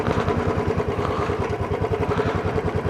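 A motorcycle ridden slowly on a hill road near Mussoorie, its engine chugging steadily at low revs, close and continuous throughout without any voices.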